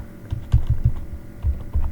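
Someone typing on a computer keyboard, a few quick close key taps in short bursts with brief pauses between them.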